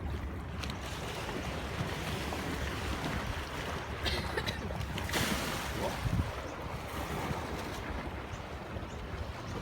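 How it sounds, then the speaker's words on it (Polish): Rough sea waves surge and wash against a shore near Sydney in a steady roar, with heavier breakers swelling up around the middle and wind buffeting the microphone. "patrz tu jaka idzie fala"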